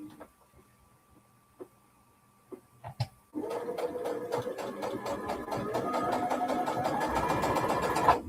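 A sewing machine stitches small quilt block pieces for an ornament topper, starting after a few faint clicks and taps, then running steadily and loudly, its rapid rhythmic stitching building slightly toward the end.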